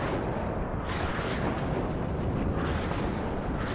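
Dense, continuous booming barrage of large tank shots and explosions in a war strategy video game, loud and sustained with no pauses.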